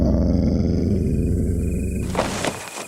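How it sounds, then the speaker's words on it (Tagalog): An animal growls like a dog in a low, sustained rumble that fills the clip, with a rougher swell toward the end and no talking. "may marinig silang angil ng isang hayop"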